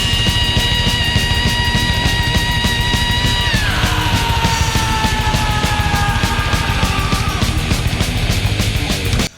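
A famous high-pitched metal scream opens a thrash song, a long sustained wail that bends downward midway, loud over pounding double-bass drums and driving distorted guitars until an abrupt stop.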